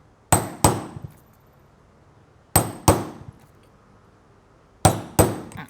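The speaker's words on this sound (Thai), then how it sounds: "เพราะฉะนั้นการเริ่มตอกนะคะก็จะอยู่ตรงนี้ นะคะตอกจากจุดนี้" Hammering while assembling the side piece of a peaked cap: three pairs of sharp, close metallic strikes spaced about two seconds apart, each ringing briefly, with no talk.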